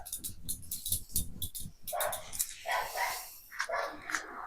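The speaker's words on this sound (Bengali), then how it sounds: "আমি যখনই ভিডিও বানাই তখনই এই কুকুরগুলো যে কেন ঘেউ ঘেউ করে বুঝতে পারি না।" Several dogs bark in bursts outdoors in Bangladesh, the yaps loud and close, overlapping and continuing through most of the moment with some background noise.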